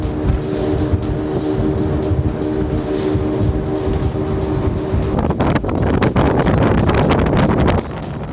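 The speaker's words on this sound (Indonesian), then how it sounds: "Speed kami pun mulai melaju setelah melewati pemukiman." Speedboat cruising at sea toward an island in West Kalimantan, a loud droning engine with rushing wind and water that turns into rougher, choppier buffeting slaps partway through.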